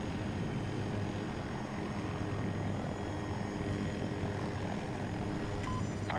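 A helicopter in the video game Battlefield 2042 drones continuously with a loud, steady rotor and engine roar, stuttering slightly from lag, filling the whole stretch with no talk.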